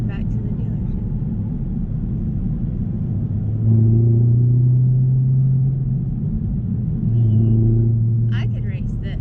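A Chevrolet Camaro ZL1 cruises on the road with a deep, steady engine rumble inside the cabin, swelling into two low droning pulls as it accelerates, while people talk over it.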